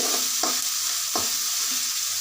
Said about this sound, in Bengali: চিংড়ি দিয়ে দিয়েছি পেঁয়াজের সাথে